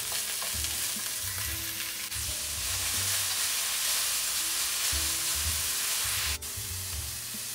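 Vegetables fry in a pan at home for a simple dinner, giving a continuous bright sizzle over low rumbling tones in the background.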